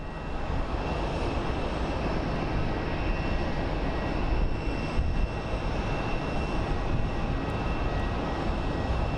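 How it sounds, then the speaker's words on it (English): A FedEx MD-11 jet airliner coming in to land on the south side of Phoenix Sky Harbor airport, its engines a steady broad roar that stays loud and constant throughout, with no talk. "Lovely MD-11 coming into the south side."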